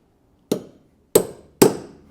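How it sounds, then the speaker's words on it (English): Four sharp metallic hammer taps on a box wrench being fitted onto an old shock absorber, spaced about half a second apart, each ringing briefly in a quiet room. "And I'm going to tap this on with a hammer."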